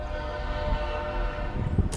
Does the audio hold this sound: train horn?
yes